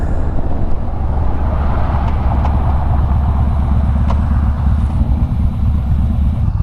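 Yamaha Bolt motorcycles ride through the canyons near Azusa, their engines producing a loud, continuous low rumble mixed with heavy wind buffeting, close to the microphone and unbroken by speech.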